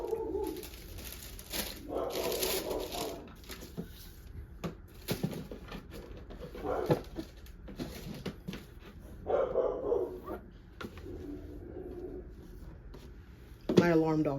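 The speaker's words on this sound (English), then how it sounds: "my alarm dog just went off." A pet dog barks indoors in short bursts at home, mixed with someone talking and some rustling, moderately close.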